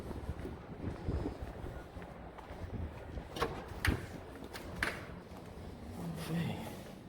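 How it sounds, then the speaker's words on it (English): Strong gusts buffet a handheld phone microphone outdoors, a rough rumbling roar that swells and drops with several sharp louder blasts, no speech over it. "So windy that my hat got thrown off."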